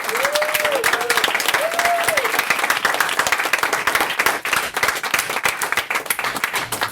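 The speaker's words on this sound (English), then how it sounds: "Can we please have a massive cheer?" Loud, sustained applause and cheering from the audience at the close of a school debating competition final round, dense clapping throughout with vocal whoops rising over it.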